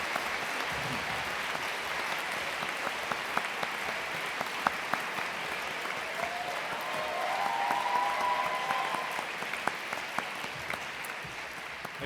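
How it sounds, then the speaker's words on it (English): Graduation ceremony audience gives a long, steady round of applause, a dense wash of clapping from a large hall crowd without speech, swelling slightly toward the end. "join me in thanking them with another huge round of applause"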